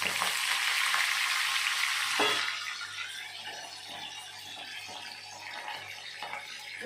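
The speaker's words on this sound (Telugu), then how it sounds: "ఇప్పుడు కరివేపాకు వేసుకుందాం." A loud hissing sizzle as leaves hit hot oil, dying down after a couple of seconds into a steadier, quieter crackle.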